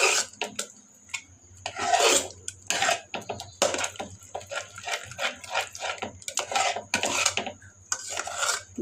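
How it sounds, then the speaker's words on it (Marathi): A spoon mashes spinach and gram flour in a pan with close, rhythmic scraping and rubbing strokes, repeated bursts of metal against metal that carry on steadily throughout. "यात आपल्याला घोटायचं आहे बेसन घालून। घोटून घ्यायचं चमच्याने।"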